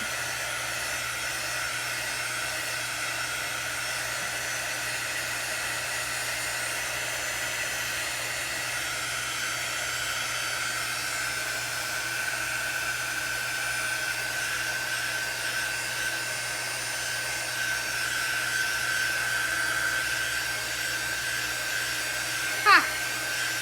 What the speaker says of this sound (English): so now we will blow dry this for just a second